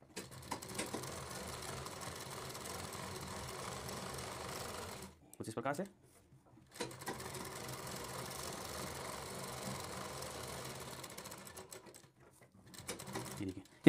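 A sewing machine stitches along the edge of a blouse sleeve with a steady mechanical whir in two long runs. A short stop falls between them, and a voice speaks briefly during the pause.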